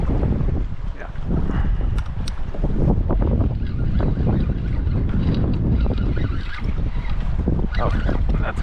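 Strong offshore wind buffets the microphone during kayak fishing three miles out off Fiji, a constant loud gusty roar with lapping water beneath it.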